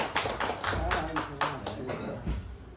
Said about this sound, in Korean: 다 함께 박수로 다시 감사드립니다.